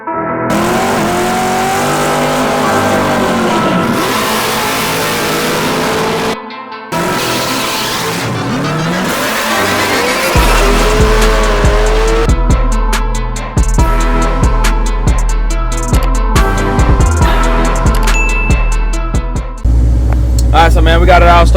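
A 1983 Chevy C10 with a noisy power steering pulley cranks and fires up, then settles into a loud, close engine run with rattly, clicking mechanical noise, while someone talks over the first part.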